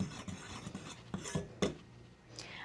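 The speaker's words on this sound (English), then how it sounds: "I'm going to go ahead and whisk these 3 ingredients really well together, just to be sure they get all dispersed into the flour" A Danish dough whisk stirs dry ingredients into flour in a bowl for a peanut butter quick bread, giving soft, close scraping and rasping strokes in an uneven rhythm with a few sharper clicks against the bowl.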